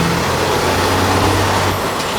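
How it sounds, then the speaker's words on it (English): A big truck passes on a highway during rush hour, its loud, steady rumble and road noise filling the whole moment, close by. "That is a big truck."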